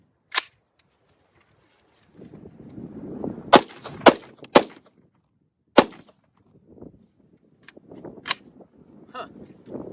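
Gunshots from a lightweight competition rifle: about seven sharp, loud cracks fired at irregular intervals, with quieter handling noise and rustling between shots.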